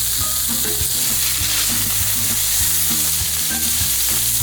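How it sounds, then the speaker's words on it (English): Steak for fajitas searing on a hot pan, a loud, dense, continuous sizzle heard close up with quick rhythmic scraping and pressing sounds running through it. "It's the only way that you're going to get a fantastic sear all over the steak"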